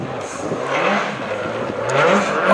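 A rally car powers uphill on the Vikersund hill climb course, its engine roaring and rising in a fairly close, sustained run that swells toward the end.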